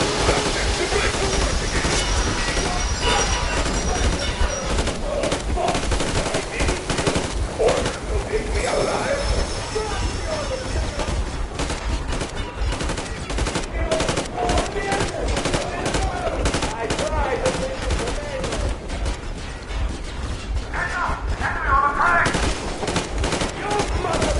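Gunfire in Metro Exodus, rapid bursts of automatic shots rattling continuously over rumbling noise, with voices shouting at times.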